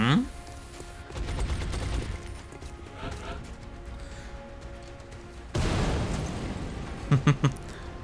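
Gunfire in the video game XCOM: Enemy Within, bursts of shots and impacts scattered across several seconds, with a louder cluster near the end, under a voice talking.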